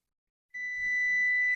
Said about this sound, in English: Timer's going to go off any second here